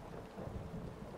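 A stormy night outside a boathouse in Fallout, a faint low rumble of thunder under steady rain, soft and distant.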